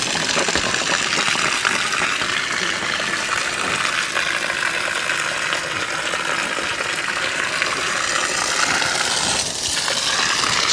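Water dribbles and gushes out of an RV water heater's drain, a continuous splashing, crackling hiss that holds steady at moderate loudness, with no voices.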